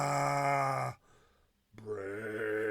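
A low, drawn-out groaning voice imitating a zombie, with a brief pause before a second guttural moan; close and fairly loud.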